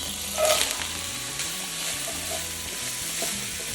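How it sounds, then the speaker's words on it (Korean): Chopped vegetables stir-fry in a little cooking oil in a pan already used for beef, giving a steady close sizzle with occasional scraping stirs. "그냥 계속 고기 볶던 팬에 가는 거예요. 식용유 조금만 넣어주시고 아까 썰어둔 야채 전부 들어갑니다."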